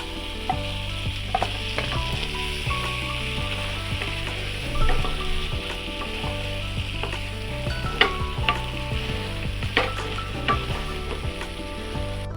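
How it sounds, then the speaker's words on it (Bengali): Fish egg fritters (macher dimer bora) fry in a spice masala that is already releasing its oil, giving a loud, steady sizzle close by with occasional clatter from stirring and no talking. "এরপর আমরা এটাতে দিয়ে দেব মাছের ডিমের বড়াগুলো।"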